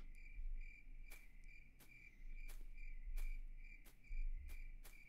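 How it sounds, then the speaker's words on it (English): Crickets chirp in steady pulsing trills inside a horror video game, a constant insect drone broken by regular broadband ticks, with a low rumbling bed underneath and no talking. "Very, very apt use of cricket noise there."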